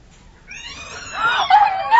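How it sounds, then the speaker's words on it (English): A startled cat lets out a rising, strained yowl that grows louder and sharper toward the end, heard alone against a faint background hiss as part of a radio drama. "You ever seen the expression on a cat's face when it's startled?"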